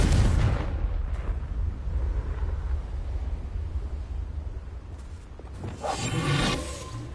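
A Confringo blasting spell in the Hogwarts Legacy video game bursts with a loud, booming explosion at the start, followed by a low rumbling tail and a second heavy blast near the end.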